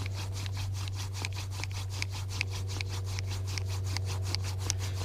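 A wooden hand-drill spindle spins against a fireboard for friction fire, producing rapid, evenly spaced rubbing strokes that repeat steadily and close, over a faint low hum.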